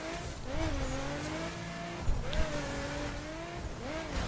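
Nissan 370Z sports car in the racing game The Crew, engine droning and rising in pitch as it accelerates, with tire screech while it slides, steady and prominent with no talk.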